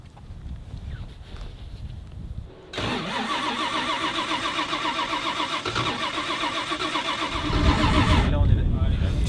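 Car engine struggling to start, with a brief hesitant burst, then a long rapid rhythmic cranking whir before the engine catches and roars louder, with a voice heard briefly at the start.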